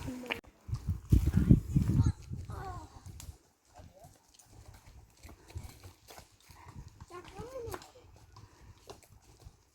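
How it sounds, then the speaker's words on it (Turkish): Horses' hooves clip-clop on a hard surface, loudest early on and then fading as the animals move past outdoors, with people chatting and a voice intermittently over the hoofbeats. "Atlar geliyor."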